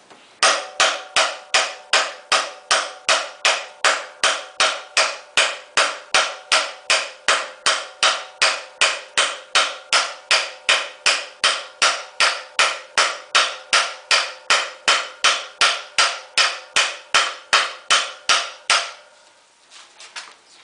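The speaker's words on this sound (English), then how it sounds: "Let's get big boy hammer over here." Rapid, steady hammer blows on a 2002 Jeep Liberty's steering knuckle, dozens of sharp ringing metal strikes in an even rhythm, close and loud, stopping abruptly near the end.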